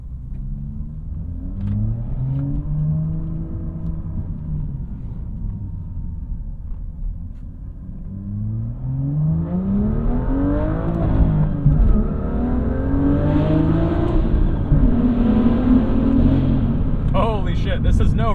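A BMW M2 engine in sport mode with traction control off, revved repeatedly while rev matching: rising and falling engine notes, loud and close, with a harsher, louder stretch of revs in the second half.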